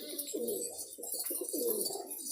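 Pigeons coo in soft, repeated rolling calls, close by and steady, with no talking over them.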